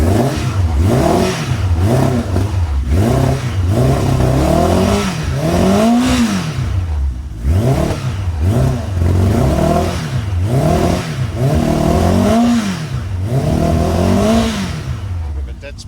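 A Yamaha XS650 motorcycle engine running close by, revved repeatedly in loud rising and falling sweeps over a steady idle, with a voice speaking over part of it.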